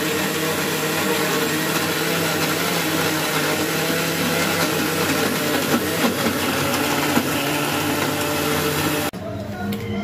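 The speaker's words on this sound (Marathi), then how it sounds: "ओके, तर याला आपण करूया आता बंद आणि मिक्सर मध्ये लावून घेऊया।" A mixer grinder churns pudding batter made with egg, a loud steady motor whir that runs unbroken for about nine seconds, then stops abruptly.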